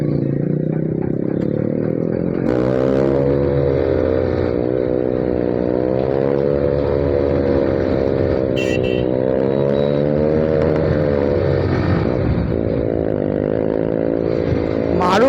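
A Bajaj Pulsar N160 motorcycle with a loud aftermarket exhaust revving hard and pulling away close by, its engine note rising and falling in steady waves while people talk over it.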